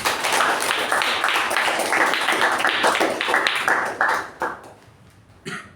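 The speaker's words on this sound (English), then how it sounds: "Let's give a round of applause for our president" Applause for the club president at a Toastmasters meeting: steady, dense clapping from a room of people for about four seconds, then tapering off into scattered claps with a brief final burst.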